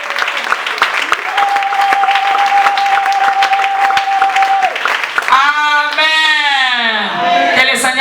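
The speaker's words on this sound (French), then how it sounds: "Acclamons la parole du Seigneur." A church congregation applauds during a French-language worship service, steady clapping under a long held tone, then voices singing or calling out over the continuing applause.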